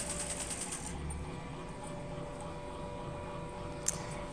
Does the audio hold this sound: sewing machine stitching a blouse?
yes